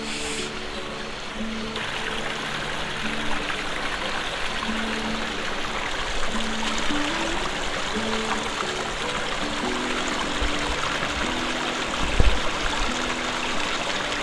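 A river stream near Toparlar Waterfall at Yuvarlakçay, Dalyan, flows with a steady, close rushing wash of water, faint tonal calls that could be frogs scattered beneath it, and one brief thump near the end.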